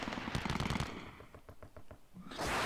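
Machine gun fire in the Panzer Battles Kursk wargame, a rapid burst of rattling shots followed by a second, more distant volley, then a louder blast of noise at the end.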